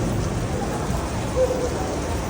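Steady rain falling during an evening walk in BGC, a dense constant hiss with a faint low rumble underneath, fairly loud and close, with no clear talk.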